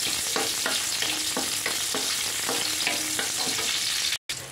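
Garlic and onion sautéing in a pan, a steady loud sizzle with regular scraping strokes of a spatula stirring, ending with a brief cut-out.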